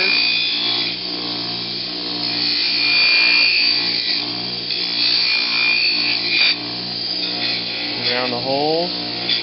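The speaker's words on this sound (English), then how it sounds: "Now we're going to Scotch-Brite the ends." A Scotch-Brite pad rubs briskly and repeatedly against the metal ends and hole edges of a frame tube, a close, steady abrasive scrubbing with brief pauses, while someone talks over it.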